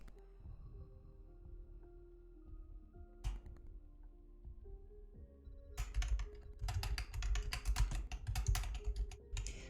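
Computer keyboard typing in a quiet room, a brief click near three seconds and then a dense run of rapid, moderately close keystrokes in the second half, with no talking.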